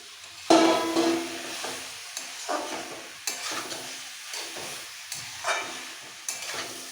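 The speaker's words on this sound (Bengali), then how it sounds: "ভেজে রাখা সোয়াবিনগুলো সব দিয়ে দিচ্ছি" Fried soybean chunks tumble into a hot pan for a soybean and potato kosa, and sharp bursts of sizzling follow with spatula scrapes and stirring clatter repeating every second or so, close and fairly loud, with no talking.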